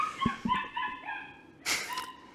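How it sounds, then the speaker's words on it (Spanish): Dogs fighting, with a burst of sharp barks and yips followed by drawn-out whining and whimpering cries, fairly close and loud, alone without talk. "Se están peleando los perros."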